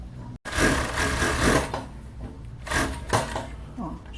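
A sewing machine stitches the lining seams of a plus-size swimsuit without cups in short, close bursts of rapid whirring, mixed with a voice speaking nearby.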